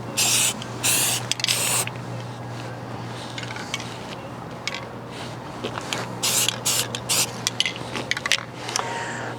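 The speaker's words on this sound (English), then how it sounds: "The spray paint that we are using today is made by Rust-Oleum." A Rust-Oleum spray paint can hisses in repeated short bursts onto a rifle, close and loud, with sharper spurts broken by brief pauses and faint handling clicks.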